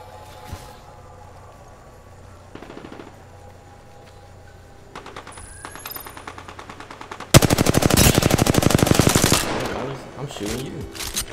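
Apex Legends gunfire plays out from an Xbox match: a few scattered shots and clicks early on, then a sudden loud sustained burst of rapid automatic fire, trailing into a few sharper shots at the end.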